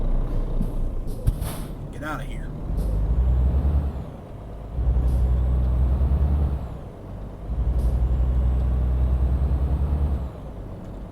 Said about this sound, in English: And turn on the truck.